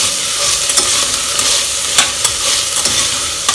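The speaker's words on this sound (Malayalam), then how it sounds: "ഇത് നന്നായി മിക്സ് ചെയ്ത് യോജിപ്പിക്കാം" Cauliflower and mixed vegetables with rock salt being stirred in a hot pan for a pearl millet khichdi, a steady close sizzle broken by several sharp scraping clicks of the spoon, with no talking.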